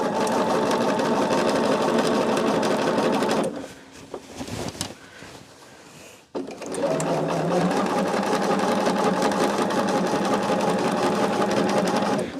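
A sewing machine stitching quilt seams runs steadily and close for several seconds, stops briefly amid handling noises, then starts again and keeps running at an even pace.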